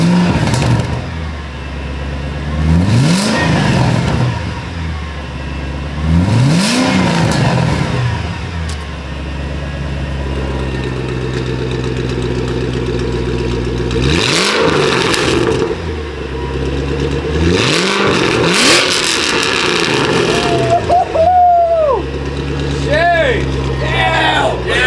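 A car fitted with a custom-fabricated Valvetronic exhaust revs hard several times, each blip swelling to a loud roar and falling back to a deep idle, with people talking between the revs.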